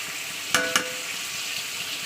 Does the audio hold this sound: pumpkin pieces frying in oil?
yes